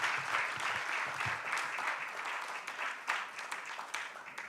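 A seated audience at a coconut festival session applauds a presentation, the dense steady clapping sounding slightly distant and gradually thinning toward the end.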